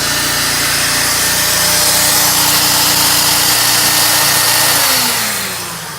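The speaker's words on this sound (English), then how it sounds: "You can hear that generator picking up." A 20-amp portable generator running steadily and loudly, its engine drone shifting pitch and dropping near the end as the load changes, with no talking over it.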